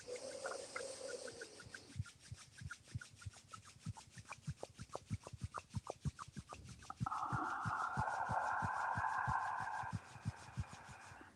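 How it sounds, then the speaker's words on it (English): Palms of the hands rub briskly together in a quick back-and-forth rhythm, close and fairly loud, with soft background tones and no voices. "Just rub your hands, your palms."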